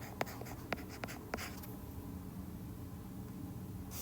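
Pen or marker scratching numbers onto a graph in a math lesson on perpendicular and angle bisectors, a few short, faint strokes close by, then quiet room tone.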